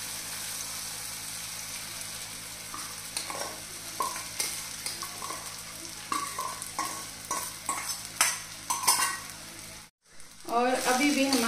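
Sabudana being stirred into masala frying over a low gas flame for khichdi, with a steady close sizzle and repeated scraping stirs of a spoon against the pan, rising to busier stirring near the end.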